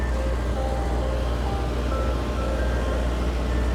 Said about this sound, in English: that's an ice cream truck, of course.